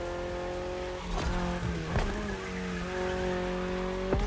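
A Toyota GR sports car drives hard in the racing game The Crew Motorfest, its engine a steady, loud, tonal hum that rises and shifts as it works, with brief tire-squeal and skid noises over it and no talking.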